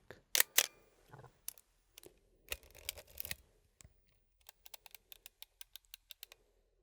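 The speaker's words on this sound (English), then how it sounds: "Just that clicking, that's what makes me love this camera so much." Close mechanical clicking and ratcheting from a Pentax K1000 film camera's winding lever, first a few louder clunks, then a rapid regular run of small clicks.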